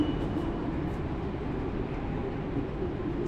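Shanghai subway metro train running, a steady low rumbling roar with a faint high whine, moderately quiet and continuous throughout.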